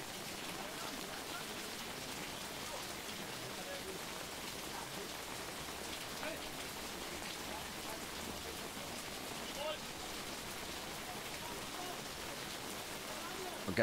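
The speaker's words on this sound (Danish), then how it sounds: "Det vælter ned med vand over spilleren i dag." Heavy rain pours down steadily on a football pitch during a reserve league match between AGF and FC Midtjylland, a dense, unbroken hiss lasting throughout, fairly faint and with no clear voices.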